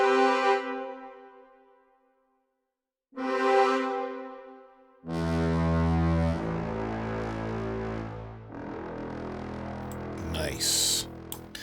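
Brass section samples from the Spitfire Symphony Orchestra library play sustained harmonic notes separated by short pauses, then build into fuller, richer chords, with a brief voice near the end.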